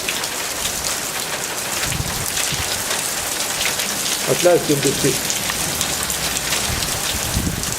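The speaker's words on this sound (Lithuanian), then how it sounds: "O dabar jau lietus lyja." Steady rain pours throughout during a storm that brings hail, a dense, even hiss of drops close by, with a brief voice speaking midway.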